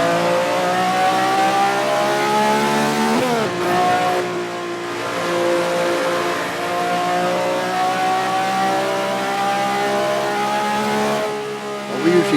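A car at high speed on a track, in fifth gear, accelerates with a loud, sustained engine note that rises and climbs continuously through the whole stretch, close and dominant.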